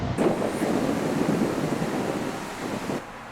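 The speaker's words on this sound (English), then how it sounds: "but it's windy" Gusty wind buffets the microphone in a steady low rumble, with a brief rise near the start and a sudden drop at the end.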